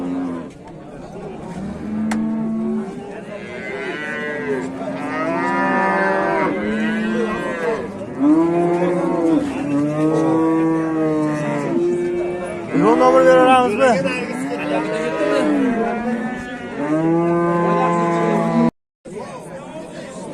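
Local-breed cow at a livestock sale lowing again and again, long loud moos close by, over a steady crowd murmur and people talking.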